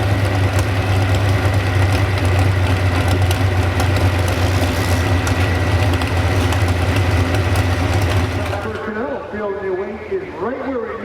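A 1,600 horsepower truck-pulling engine at Lincoln Speedway holds a loud, steady low roar that drops away near the end, leaving crowd noise and a voice over the fading sound.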